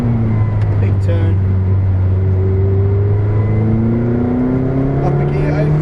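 A McLaren 620R engine pulls hard on a Silverstone lap, its steady rising drone climbing through the revs, dipping briefly at a gear change and building again, loud and continuous with a voice talking over it.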